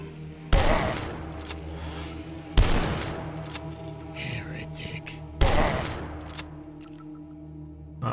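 Shotgun blasts in the retro shooter Dusk: three loud, booming shots spaced a few seconds apart, each decaying into a rumbling tail over a steady game background hum.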